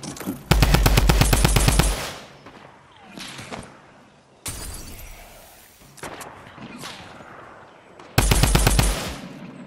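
Automatic gunfire in the video game Fortnite: two loud, rapid bursts open and close the stretch, with scattered quieter shots and effects between them.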